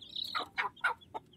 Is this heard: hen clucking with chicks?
yes